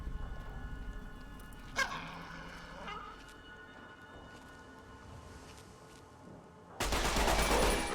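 Artillery launching in Fallout: New Vegas, Old World Blues: a sharp report just before two seconds over a dull game-ambience hum, then a loud, full-bodied blast that fills the final second.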